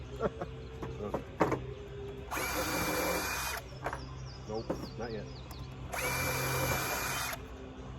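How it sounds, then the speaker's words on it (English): A power drill fitted with a very dull bit whirs in two bursts of about a second each, close and fairly loud, between short clicks and handling noises, with someone speaking briefly. "With apparently the dullest drill bit in the world."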